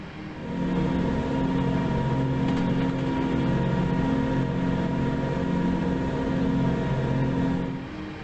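A Class 170 diesel multiple unit accelerates in the Train Simulator 2021 game on the Cross City Line. Its engine drones steadily and fairly loudly, with a layered, humming tone and no speech over it.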